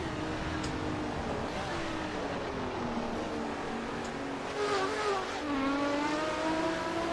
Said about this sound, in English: how can you dislike the sound of a Ferrari?